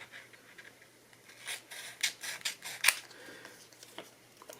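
Scissors snip through a strip of thermal printer paper from a Phomemo M02 thermal printer, a few quiet crisp cuts and rustles clustered together, close and faint, with no talking.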